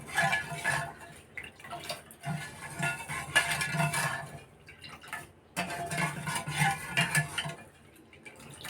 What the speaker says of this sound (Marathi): साखर जरा अशी मिक्स करून घेते